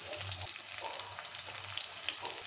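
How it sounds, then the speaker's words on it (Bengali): Chopped onion frying in a pan with dried chillies, a steady close sizzle with crackling and occasional stirring, no talking. "দিয়ে দিব এখন পেঁয়াজ কুচিটা"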